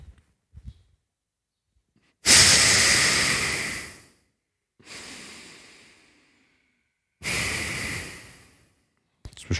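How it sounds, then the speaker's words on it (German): Forceful breaths pushed out through the nose during a yoga breathing exercise, three loud rushing bursts of about two seconds each with quiet gaps between, close and alone. "atmen wir so durch die Nase mit so einem Schnaufer aus."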